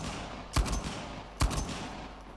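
Two loud, sharp gunshot bursts about a second apart from weapons in Uncharted: The Lost Legacy, each with a short rumbling tail, over a quiet game background.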